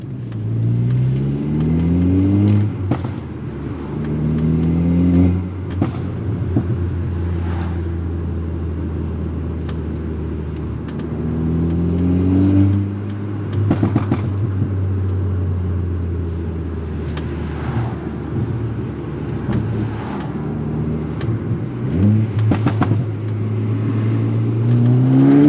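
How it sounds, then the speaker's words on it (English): A Stage 2 MK6 Golf R accelerates hard through several gears, its engine rising in pitch on each pull, with short turbo flutter bursts between shifts heard from inside the car. "Hope y'all can hear like the turbo flutter in between gears."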